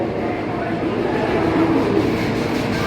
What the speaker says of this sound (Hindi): अब ट्रेन खुल भी गई।